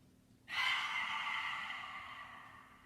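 One long, forceful breath drawn in through the nose during a breathing exercise, starting abruptly and slowly fading over a few seconds, close and alone.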